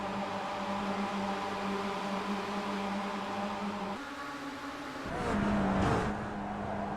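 An iRacing race car engine at Silverstone whines steadily at high revs, drops in pitch briefly near the middle as if shifting or lifting, then surges louder before settling again, with no voices.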